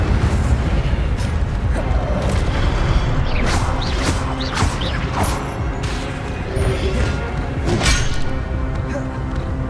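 Spell effects from the Hogwarts Legacy video game, with the Incendio fire spell among them: dense, loud bursts, booms and crackling impacts over a constant game soundscape, with a voice speaking at times.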